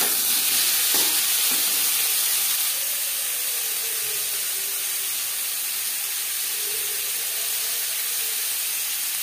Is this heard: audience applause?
no